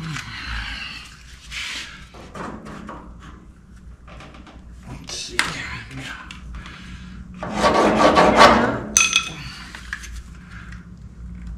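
Hand sanding on a glued fiberglass bumper in a garage, with repeated scraping, rasping strokes in short bursts and a louder stretch of steady rubbing near the end, close to the microphone.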